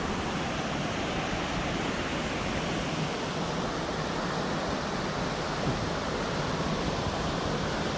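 Kurangani Falls pours in a steady, dense roar of rushing water, close and constant with no pauses and no voices.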